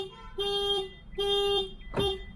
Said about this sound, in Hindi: तो इस तरह से गाड़ी जोर से अलार्म देती है